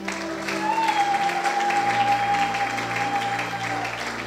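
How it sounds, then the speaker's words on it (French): Congregation in a church applauding together, steady dense clapping held for several seconds at moderate level, with a faint sustained tone behind it. "On acclame Dieu pour Rigaud"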